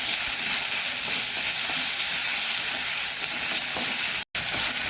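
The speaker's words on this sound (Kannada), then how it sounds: "ಒಂದು 2-3 ನಿಮಿಷಗಳ ಕಾಲ ಒಂದು ಹದಾ ಉರಿಯಲ್ಲಿ ಇದನ್ನು ಹೀಗೆ ಫ್ರೈ ಮಾಡ್ಕೊಳ್ಳೋಣ" Onion and tomato fry on a medium flame, a steady dense sizzle with occasional stirring, continuous and close, with a brief dropout near the end.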